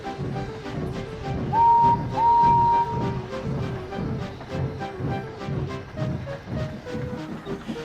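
Two long, clear steam locomotive whistle blasts, in the style of Thomas the Tank Engine, sound over a steady rhythmic chuffing and clatter of a train running along the line.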